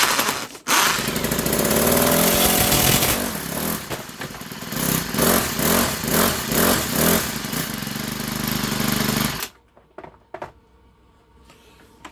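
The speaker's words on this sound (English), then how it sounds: "hit your drill gun trigger switch in the direction of forward a couple good times until the weed whacker starts up" A Craftsman weed whacker with a broken pull cord being spun up by a drill, its small two-stroke engine catching and roaring loudly for about nine seconds with pulsing revs before cutting out to near silence.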